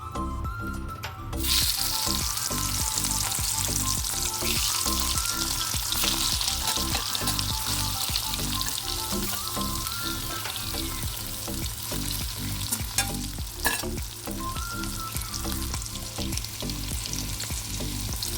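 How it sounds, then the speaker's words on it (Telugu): Bitter gourd pieces frying in oil in a pan, a loud steady sizzle and crackle that runs for the whole stretch, close up and with no talk. "ఇప్పుడు కొద్దిగా ఫ్రై అవుతున్నాయండి ఇవి"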